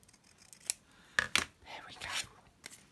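Scissors cutting through material with crisp snips, a couple of sharp closely spaced cuts and a longer rasping cut, near and clear over faint background talk.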